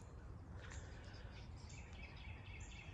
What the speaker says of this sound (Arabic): صوت العصافير